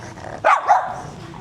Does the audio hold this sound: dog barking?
yes